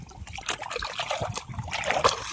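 Rainwater trickling into a paddy field, a soft, uneven dribble with small splashes, quiet and close throughout.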